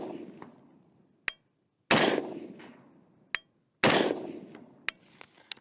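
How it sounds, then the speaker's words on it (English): Rifle shots fired at a target on a range while zeroing an optic. Three sharp, loud reports come about two seconds apart, each with a long ringing decay, and lighter clicks and metallic ticks sound between them. "Three more shots, 3 more hits."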